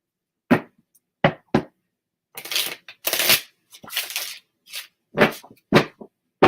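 A deck of tarot cards is shuffled by hand in quick, crisp bursts: several short riffles, then longer, rustling shuffles, each separated by brief silence. The sound is close and clear, with no talking.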